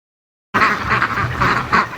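Muscovy ducks being herded toward a lake burst into loud, close raspy quacking after a moment of silence, a rough chorus of several birds calling in uneven bursts.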